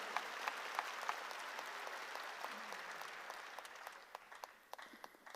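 Congregation applauding during a Korean church sermon, a dense steady wash of clapping that gradually thins, with a few separate claps standing out near the end.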